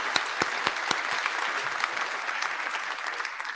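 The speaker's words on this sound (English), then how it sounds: "So if I could just have a little round of applause for all of these sponsors." An audience at a technical conference plenary gives a short round of applause, a few sharp individual claps at first swelling into steady, moderate clapping from a seated crowd.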